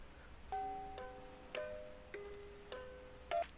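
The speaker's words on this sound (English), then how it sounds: "Has a little, what is that, a little bell?" A small bell in the horror game Layers of Fear rings in five separate chimes at roughly even intervals, each a clear short tone with a brief fade over a quiet, hushed background.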